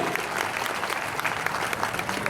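Steady, dense applause from an audience at a job-fair training program, clapping continuously and evenly at moderate volume throughout with no pauses.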